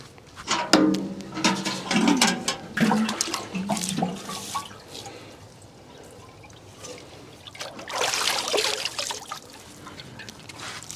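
Newly planted herbs in loose potting soil are watered, giving splashing, trickling bursts of water in two spells separated by a quieter lull, close and moderately loud.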